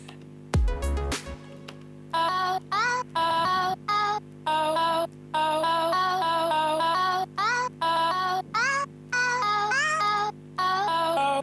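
A bright synthesized vocal-chop melody plays in short rhythmic bursts with sliding pitches, over a steady low drone, after a brief percussive hit at the start.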